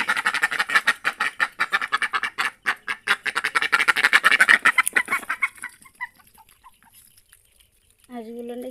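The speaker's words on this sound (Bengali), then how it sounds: "হাঁসগুলো খেতে দিলাম।" Ducks being fed at a rural home in Bangladesh, gathering at a person's feet: a dense run of rapid quacks and clucks, loud and close for several seconds, then trailing off into quiet before a brief final call.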